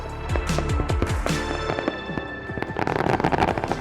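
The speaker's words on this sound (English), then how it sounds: "This is just a small sample of the fireworks." Fireworks at the Albuquerque Balloon Fiesta pop and crackle repeatedly, with whistling launches early on and a dense burst of sharp crackling bangs toward the end.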